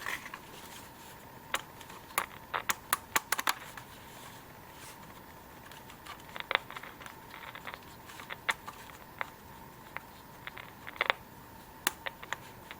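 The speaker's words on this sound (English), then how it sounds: "It's got some clicking, but that's about it." An old multi-band radio gives scattered faint clicks, short sharp ticks at irregular intervals over a quiet hiss.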